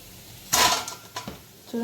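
Crisp fried fish pieces clatter into a metal strainer bowl, one sharp rattling drop followed by a couple of lighter clinks and taps, close and bright with no talk.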